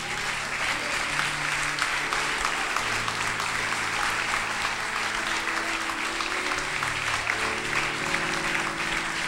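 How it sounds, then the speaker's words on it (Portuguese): A church congregation at a youth congress applauds loudly and continuously, a thick, unbroken wall of clapping with faint sustained musical tones running underneath. "Pode aplaudir o nome do Senhor por isso"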